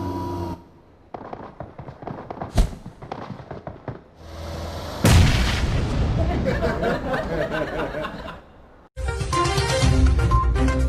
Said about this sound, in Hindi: दो दोस्तों ने एक दूसरे को AWM के लिए ग्रेनेड से उड़ाया।